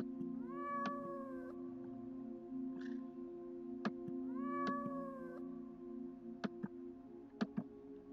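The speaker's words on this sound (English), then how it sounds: "Yay, cat." A cat meows twice in drawn-out, wavering calls over a steady hum and scattered ticking sounds, close and clear with no talking.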